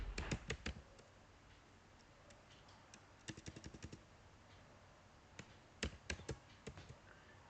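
Keystrokes on a computer keyboard while writing code, bursts of quick, fairly quiet taps and clicks separated by short pauses, with no voices.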